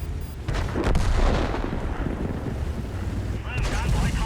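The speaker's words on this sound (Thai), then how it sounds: "ข้างหลังใครยิงเข้ามา" Heavy tank cannon fire in the World of Tanks video game booms from behind, a deep blast with a rumbling tail followed by another thud amid steady battle noise.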